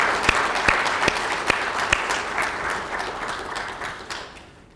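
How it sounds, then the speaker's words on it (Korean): Applause from an audience at a regular quarterly meeting, welcoming a district mayor being introduced; steady, dense clapping with a few sharp near claps, gradually fading toward the end. "박수로 환영해 주시기 바랍니다."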